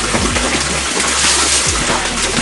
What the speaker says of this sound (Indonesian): Kemudian kita siram setelah mencuci.